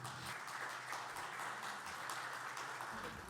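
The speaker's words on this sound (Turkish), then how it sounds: "Evet alkışlarınızla imzalar atılıyor." Audience applause fills the room during a signing ceremony for an air cargo cooperation agreement, a brief, even wash of clapping heard somewhat distant and steady throughout.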